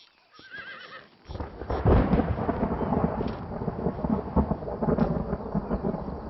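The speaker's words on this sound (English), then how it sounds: "About time we had some rain." Thunder rumbles through a stormy scene in the Red Dead Redemption video game, with a horse whinnying early on and a dense, steady wash of rain and low rolling thunder filling the rest, loud and close.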